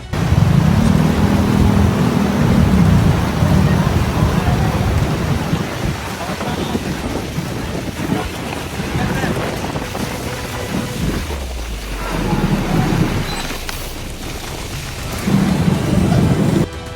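Heavy rain pours down steadily during flooding in the Philippines while deep rumbles of thunder roll through, loud and close, with the downpour never letting up.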